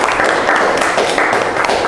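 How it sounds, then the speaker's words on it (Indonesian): An audience applauding together in a classroom session, a brief burst of dense, even clapping at close range that fills the moment without pause. "Tepuk tangan untuk kita semua."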